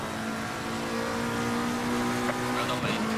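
A race car in Assetto Corsa Competizione at the Zolder circuit at night holds a steady, loud engine drone while the driver feathers the throttle out of a chicane, with a faint rise in pitch near the end.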